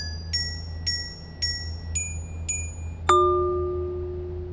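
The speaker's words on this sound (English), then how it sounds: "Repair has a pleasant plinky plonk." A repair sound effect from the game Clomper: a run of bright, plinky metallic tones in a rising sequence, ending in a louder, lower ringing plonk that fades out, heard over a faint low mechanical hum.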